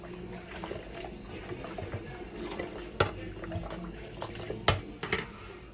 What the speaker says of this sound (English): Now I'm gonna strain this and put it in a bottle.